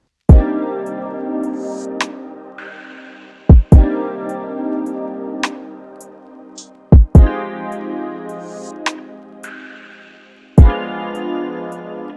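Electric piano chords ring out in sustained, decaying stacks over a plucked guitar melody in a 6/8 R&B beat made in FL Studio, with sharp kick and percussive hits punctuating each phrase and no voices.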